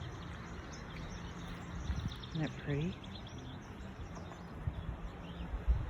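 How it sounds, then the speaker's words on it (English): Birds sing along a hiking trail, with a few clear chirps and a short trilled phrase rising midway over steady wind and outdoor hiss, fairly faint, while a person briefly speaks. "Listen to the birds."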